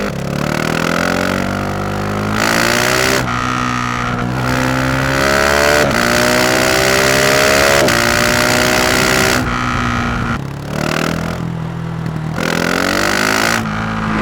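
GasGas SM 700 supermoto single-cylinder engine accelerating hard through the gears on the road, loud and close, with rising revs, sharp shifts and brief throttle dips repeating, and no talk.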